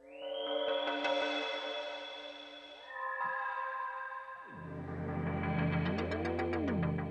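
Evolving synthesizer effect textures from the Pigments 3 harmonic engine, layered tonal drones shifting in pitch, then a low sustained bed with a bright, rising and falling harmonic sweep; loud and continuous, no voices.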